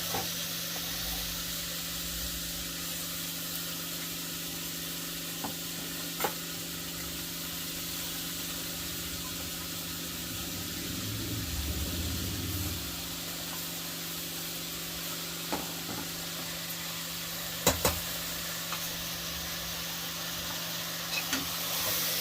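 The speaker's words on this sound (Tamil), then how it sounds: "பாருங்க, நல்லா இந்த எண்ணெயில் வந்து அது அப்படியே வதங்கி வந்துடுச்சு. இப்போ தக்காளி போட்டுக்கலாம்." Mixed vegetables for kootu sauté in oil in a pan with tomato, a continuous soft sizzling hiss that stays even throughout, with a few faint utensil taps and no speech.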